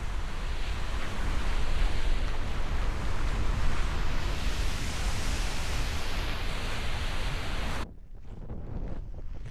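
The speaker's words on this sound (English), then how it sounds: "Even this small waterfall was quite impressive." A small waterfall in Iceland gives off a steady, close, full-bodied rushing roar for about eight seconds, then drops abruptly to a much quieter outdoor ambience.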